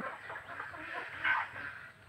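Free-range desi chickens on a grassy field at a low-cost poultry farm, clucking faintly and intermittently, with one slightly louder call partway through.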